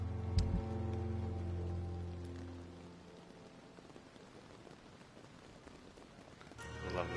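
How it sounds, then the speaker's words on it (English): Steady rain falls in the video game Vampyr, a soft even patter heard alone under a low ambient hum, with a few clearer drip-like taps toward the end. "I love the sound of the rain."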